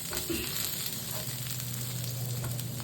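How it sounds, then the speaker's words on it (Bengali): A soft, steady sizzle of eggplant frying with garlic in a pan, fairly quiet and close, with faint stirring and no voices. "রসুন দিয়ে বেগুনটা একটু ভেজে নিয়েছি"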